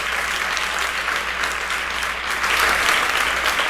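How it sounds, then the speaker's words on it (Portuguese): A church congregation claps during a worship service, a steady, full, even applause heard alone at moderate volume. "Aplauda Ele, porque Jesus conquistou isso para mim e para você."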